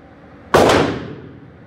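A single sharp CZ P-07 pistol shot fired on a range at 7 yards, a loud close crack with a short decaying tail, alone with no talking.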